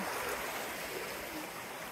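A small stream of water flows through a channel under a bridge near a jungle waterfall, a steady soft rushing and trickling wash, faint and continuous with no voices.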